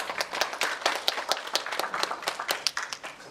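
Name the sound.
audience applause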